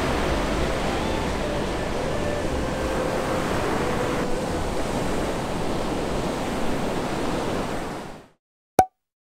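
Ocean surf washing and churning steadily, loud and close, a continuous broad roar of water that cuts off abruptly near the end, followed by a single brief pop.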